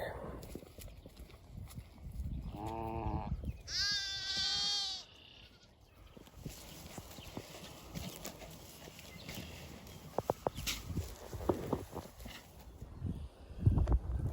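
A sheep bleats twice, close and clear, early on, followed by quieter rustling and scattered knocks in an outdoor setting.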